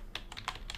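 Keys clack on a computer keyboard in a quick run of about five light, close taps, quiet and alone.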